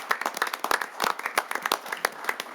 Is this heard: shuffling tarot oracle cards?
no